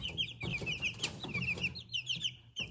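American breed chicks peep and cluck in quick, high bursts at close range. Softer thumps and scuffles sit beneath the calls.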